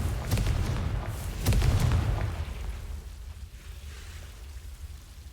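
Confringo blasting spell going off in Hogwarts Legacy, two heavy booming bursts close together near the start, followed by a low rumbling decay with no talk.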